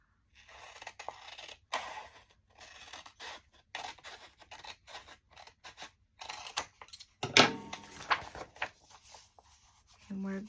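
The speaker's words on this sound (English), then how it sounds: "We're gonna cut off the white part across the top." Scissors snip through paper in a run of short, close crisp cuts with a rhythmic pattern, with a person talking at intervals between the cuts.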